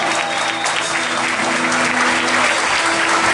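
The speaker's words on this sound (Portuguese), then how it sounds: "Pode aplaudir, Deus, porque eles merecem." A crowd claps continuously, a dense, steady wash of applause with no pauses throughout.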